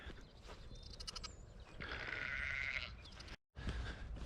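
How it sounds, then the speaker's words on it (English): Several sheep bleat one after another on a farm during lambing, with one long, strained call in the middle, over a steady outdoor background and a brief cutout near the end. "Sheep."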